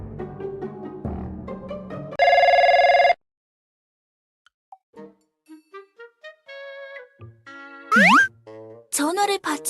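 A telephone rings in the game Trickcal: a loud, buzzy electronic ring for about a second. It is surrounded by bouncy cartoon blips and chimes.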